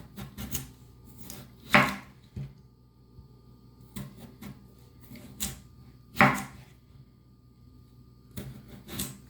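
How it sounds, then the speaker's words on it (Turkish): A knife cutting potatoes into 1 cm thick slices on a board, sparse dry knocks and thuds at an uneven pace, two of them louder, with quiet handling between cuts. "Patatesimizi 1 santim kalınlığında kesiyoruz arkadaşlar."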